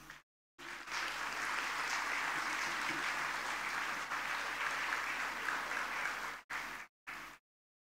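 Sustained applause from the audience at a university convocation ceremony honoring students, a broad even clapping that fills most of the stretch, with brief gaps near the start and end.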